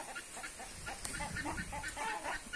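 Chickens clucking beneath a perch on a rural farm: faint, scattered clucks buried in a noisy, rumbling outdoor background.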